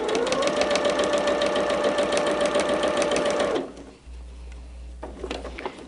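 A sewing machine stitches fabric on a 2.4 stitch length with a fast, steady, loud mechanical whirr, then stops abruptly, leaving quieter handling noises of fabric being smoothed.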